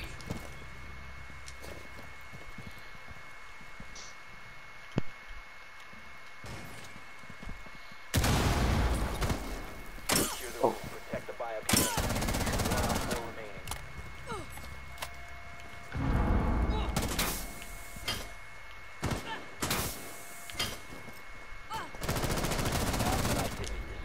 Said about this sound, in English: He shot his gun?